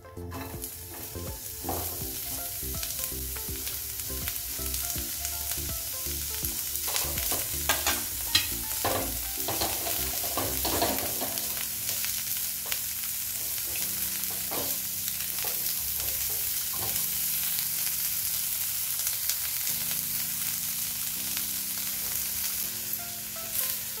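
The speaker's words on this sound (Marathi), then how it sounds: "कांदा भाजून घेऊया।" Onion frying in a pan for a paneer and peas curry, a continuous bright sizzle with occasional scraping stirs and clinks of a spatula, steady and close throughout with no talk.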